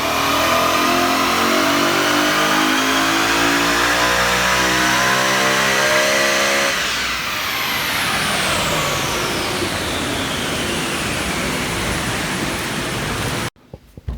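A BMW E92 M3 fitted with an ESS 650 supercharger kit revs hard on a dyno, a loud sustained engine roar climbing in pitch, then a long high-rpm pull with a rising whine before a sudden cutoff.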